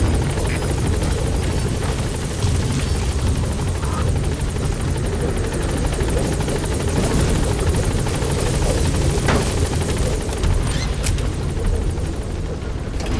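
Helicopter arriving at a landing zone in the video game Metal Gear Solid V: The Phantom Pain, a steady loud rotor roar with heavy low thumping that fills the whole stretch with no talk.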